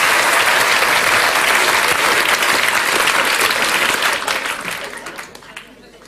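Loud, close applause and cheering from a live concert audience after a piano rendition of a pop song, a dense roar of clapping that holds steady, then fades away over the last two seconds.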